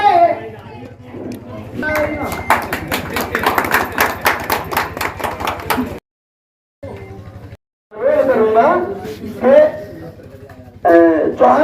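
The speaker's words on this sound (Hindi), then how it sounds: "जोरदार तालियां।" A crowd applauds at an outdoor farmers' meeting in a village, the clapping dense and loud for several seconds before breaking off, with someone speaking loudly over the gathering afterward.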